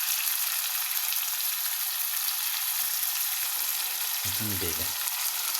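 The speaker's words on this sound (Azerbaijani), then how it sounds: "ürək ciyarı hamısını əlavə edib burada yaxşıca pişiririk" Chicken liver and heart frying in a pan, a steady dense sizzle throughout, with a brief short spoken word near the end.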